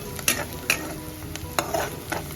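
Curry leaves hit a hot pan of pumpkin sabji and sizzle steadily, broken by repeated sharp spoon scrapes and taps about every half second, close and fairly loud.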